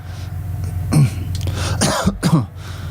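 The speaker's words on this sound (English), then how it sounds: "Just trying to clear my throat there of various ailments" A man clears his throat and coughs several times, close to the microphone, over a steady background hum, during football match commentary.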